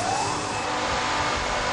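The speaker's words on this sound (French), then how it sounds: "ce sont les moteurs principaux. Ce sont des moteurs à combustion, ce sont des moteurs diesel comme les moteurs de voiture." A ship's main diesel engines run in the engine room, a loud, continuous, dense roar with a faint rising whine, steady throughout and with no voices.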